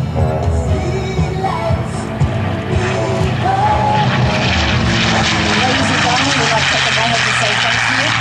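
A P-51 Mustang propeller aircraft flies at a military base air show, its engine drone loud and continuous throughout, with a public-address announcer talking over it.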